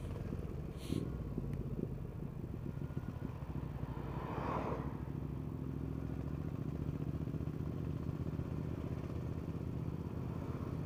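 A Royal Enfield Hunter 350 motorcycle rides along small country A and B roads, its engine a steady low drone mixed with constant rushing wind for the whole stretch.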